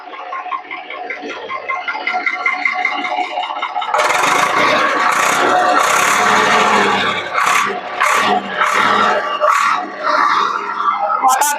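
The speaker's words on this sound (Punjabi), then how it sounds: "ਕਿੰਨਾ ਆਸਾਨੀ ਦਾ ਟਰੈਕਟਰ ਸਟਾਰਟ ਹੋ ਗਿਆ ਤੇ ਆਪਣਾ ਆਵਾਜ਼ ਨੂੰ ਮਕਰਾਂ ਕਰਾ ਚੈੱਕ ਕਰੀਏ" An old tractor, offered for sale in Punjab, starts and settles into a steady, loud idle. The broad engine rumble runs throughout and grows rougher and fuller after a few seconds, with voices faintly present.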